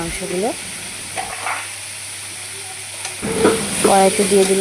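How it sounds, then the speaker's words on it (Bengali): Chicken pieces fry in hot oil in a wok with a soft, continuous sizzle and stirring that grows louder near the end, while a person talks intermittently over the cooking. "মাংসগুলো, এখন ফ্রাই করছি মাংসগুলো।"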